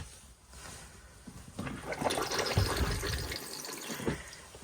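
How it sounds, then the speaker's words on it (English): Fresh water gushes and swirls into the bowl of a motorhome cassette toilet, a soft rushing flow that swells after a quiet start and keeps running for a few seconds. "press the blue button and you'll get a flow of fresh water into the bowl"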